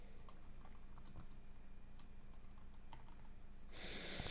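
Steady, quiet typing on a computer keyboard while writing notes, with irregular key clicks and no voices.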